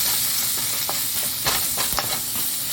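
Minced turkey sizzling in a pan as chili is stirred in, a steady close frying hiss broken by scraping clicks from the stirring utensil, with no talking.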